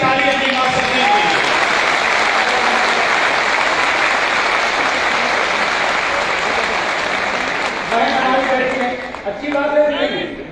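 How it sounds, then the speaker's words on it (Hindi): Loud, sustained applause from a large crowd at a public rally, honouring the mothers in attendance, with voices rising near the end. "एक बार सबसे बड़ी ताली अपनी मां शक्तियों की।"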